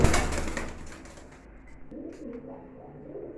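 A female hashpa pigeon on a pigeon farm coos softly in a few low, rolling calls close by, after a brief rustle at the start.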